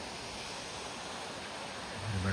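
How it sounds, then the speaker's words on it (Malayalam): A small waterfall spills between rocks beside a trekking path near Tosh village in Himachal Pradesh, making a steady, fairly faint broadband rush of water that swells slightly toward the end. "ഒരു വെള്ളച്ചാട്ടം"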